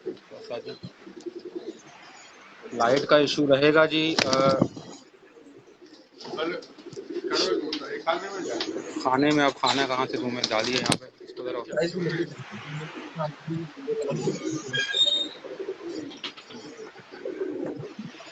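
Pigeons coo in rhythmic, throaty bursts close by while people talk over and between the calls.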